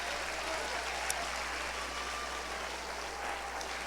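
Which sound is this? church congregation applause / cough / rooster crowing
church congregation applause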